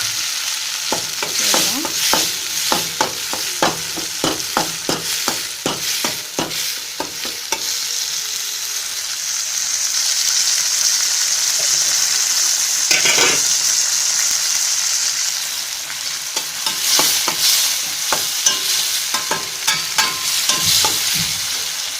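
Onions and tomato sauté in a pan for brinjal thokku, a steady close sizzle broken by frequent sharp scrapes and taps of a spatula stirring, with a louder hissing stretch in the middle.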